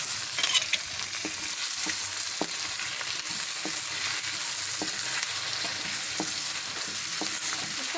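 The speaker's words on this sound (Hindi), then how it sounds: "ताकि ये भी ऑयल में जो है वो अच्छे तरीके से फ्राई हो जाए प्याज के साथ।" Chicken frying in oil with onions for a chicken karahi, a steady loud sizzle filling the background with occasional soft stirring scrapes and knocks, no talking.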